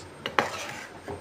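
A spoon scrapes and clinks against a pan while egg gravy kurma is stirred, a few distinct metallic knocks over a low simmering background, close and moderately loud with no talking.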